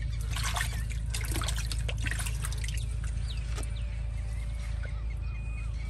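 Cold water pouring and splashing from a tubewell outdoors, a steady close trickle with dripping and splashing over a constant background hum, with faint bird calls mixed in.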